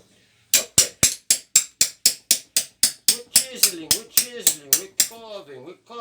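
A hammer strikes a chisel into alabaster in a steady series of about twenty sharp, close taps, evenly spaced and gradually ringing a little more, with no voices.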